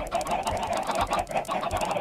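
Minecraft chickens cluck in a rapid, overlapping stream, many birds together, close and steady for two seconds with no speech.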